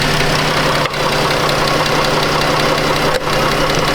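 Chrysler 200 engine idling steadily with the air-conditioning compressor and both radiator fans running, a loud constant whirring hum with two brief dips, no talking.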